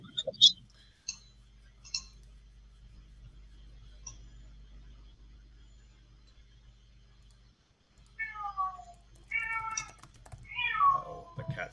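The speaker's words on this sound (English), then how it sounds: "Uh-oh, the cat's out." A domestic cat meows repeatedly, first as a few faint calls, then after a long quiet stretch as several louder, close, drawn-out meows near the end, with no talk over them.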